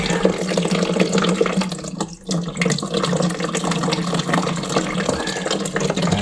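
Water runs from a toilet tank during a toilet part replacement, a steady close gush with a brief dip in the middle before the flow resumes.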